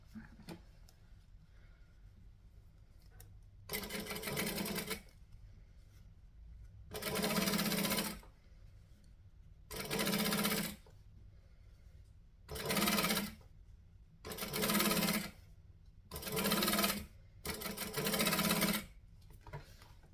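Sewing machine stitching fabric in seven short bursts of loud, close whirring, each lasting one to two seconds and separated by quiet pauses of fabric handling.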